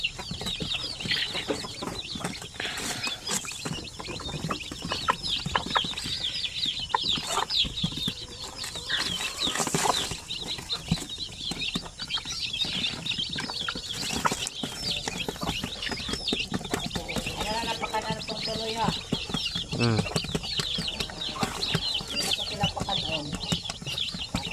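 A brooding mother hen with a large brood of chicks clucks and peeps nearby amid steady rustling and scratching, while people talk intermittently over the farmyard sounds.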